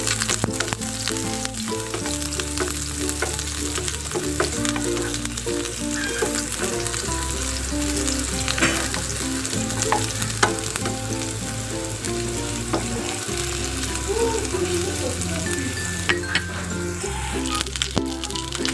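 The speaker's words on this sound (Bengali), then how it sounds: "এখন দিয়ে দিব পেঁয়াজ কুচি, দিয়ে একটু ব্রাউন কালার করে ভেজে নিব।" Chopped onions fry in hot oil in a pan, making a loud, continuous close sizzle with irregular crackles and occasional stirring scrapes throughout.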